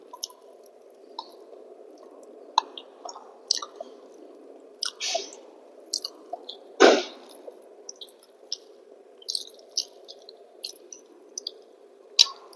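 Someone eats a meal of mashed boiled potato and rice close to the microphone. Soft, wet squishing chews and small smacks come in irregular clusters, with brief pauses between mouthfuls and no talking.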